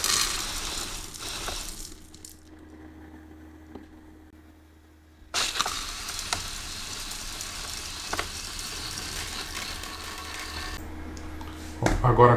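A homemade automatic dog feeder with a funnel and reservoir runs with a whirring, rattling mechanism: a burst at first, a quiet gap, then steady running resumes from about the middle to the end.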